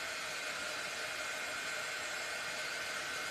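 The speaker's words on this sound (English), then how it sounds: "I'm gonna run the dryer just for a second" A hair dryer runs steadily while drying a craft project with little bee wings, a constant close whooshing hiss with no breaks for the whole stretch.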